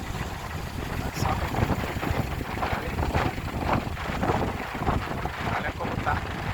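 Strong wind gusts at the sea's edge where a river meets the ocean in Laguna, with boats nearby, roar as constant buffeting rumble against the microphone, loud and unbroken throughout.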